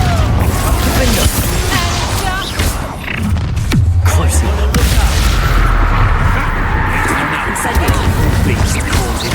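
Confringo fire spells blast in Hogwarts Legacy combat, with several loud booms and crashes over a dense, continuous din of battle effects, while voices call out spells.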